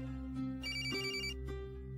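A phone rings with a repeating electronic ringtone, clear and fairly close, sounding alone with no talking.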